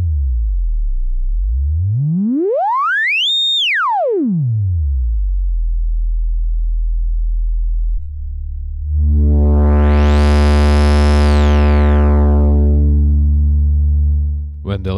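A pure electronic sine tone from an Erica Synths Black Dual VCF filter self-oscillating sweeps up to a high whistle and back down, then a brighter buzzy tone rises and falls, loud and steady.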